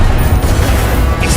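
Confringo fire-blast spell in the video game Hogwarts Legacy, a loud dense rumbling explosion filling the whole moment with booming, crackling noise.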